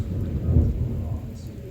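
A thunderstorm over Des Moines, Iowa brings a deep, close rolling thunder rumble that swells and fades over steady rain.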